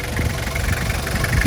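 Hot 2002 Isuzu Panther LGX diesel engine idles with a steady low rumbling chug, close and continuous, no talk over it.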